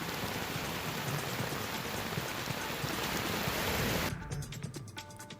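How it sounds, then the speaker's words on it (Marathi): Heavy early-morning rain pours down in Navi Mumbai as a dense, steady hiss, then abruptly thins to lighter patter and scattered drips in the last second. "नवी मुंबई शहरामध्ये पहाटेपासून जोरदार पावसाला सुरुवात झाली आहे"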